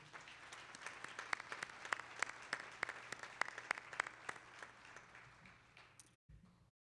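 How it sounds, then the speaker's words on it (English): Audience at a college commencement ceremony claps for retirees, a fairly distant spread of applause with some sharp individual claps standing out, tapering off before an abrupt cut. "Please join me in a round of applause for our 2021 retirees."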